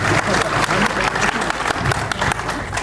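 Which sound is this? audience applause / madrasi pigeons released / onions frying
audience applause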